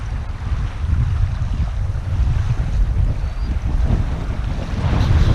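Strong evening wind blows by a lake, buffeting the microphone with a loud, rumbling, gusty roar that continues without a break and with no voices.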